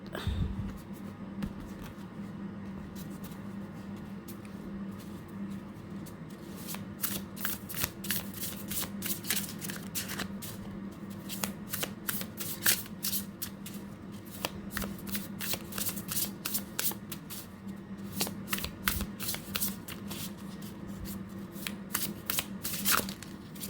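A deck of oracle cards is shuffled and cut by hand, producing close, quiet riffling and crisp flicks that grow busier and more rapid after the first few seconds, with no talking.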